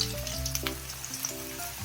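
Cauliflower pieces, crumbled loose like pakoda, deep-frying in hot oil give a steady close crackling sizzle with scattered pops over a low hum, no talking.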